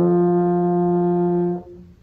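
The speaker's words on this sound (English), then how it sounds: "And a high note on tuba sounds like this" A tuba sustains a single clear high note, smooth and even, for about a second and a half before it stops and fades into near silence.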